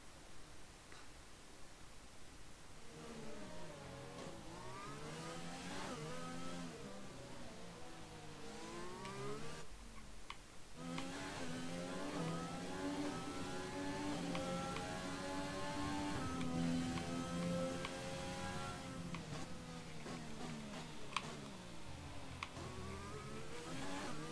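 Race car engines from the F1 2020 video game during the Monaco Grand Prix scream through gear changes, pitch rising and falling continuously, with several cars whining together in a dense, steady roar.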